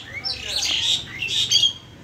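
Doves kept in a cage for sale call in short, bright chirping bursts. The calls repeat close by over a quiet background.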